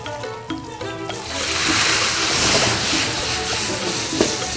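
Water poured into a hot pan of cooking duck rice gives a sudden broad sizzling splash that settles into steady loud bubbling hiss, with brief voices at the start.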